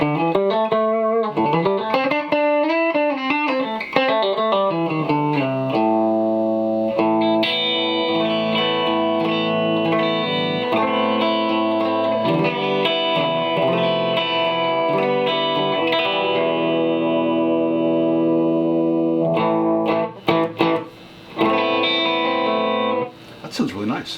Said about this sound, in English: We have a working pickup and a guitar.